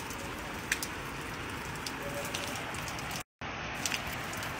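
Steady rain falls in Abha, a dense even hiss of drops on surfaces with a few sharper splatters, continuous throughout apart from a brief cut near the end.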